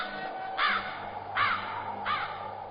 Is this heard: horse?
no